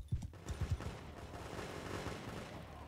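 A musket volley rings out in Mount & Blade Bannerlord: a burst of overlapping gunshots crackles together at the start, then a rolling, rumbling battle din carries on loud behind it.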